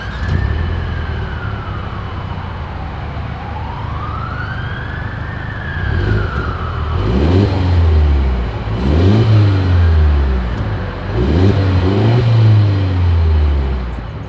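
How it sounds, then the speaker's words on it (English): A 2023 Mercedes-Benz GLE 350 SUV's exhaust gives several loud, close revving bursts that rise and fall in turn, after a smooth swelling engine tone. "As always, here is that exhaust clip."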